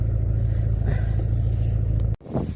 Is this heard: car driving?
yes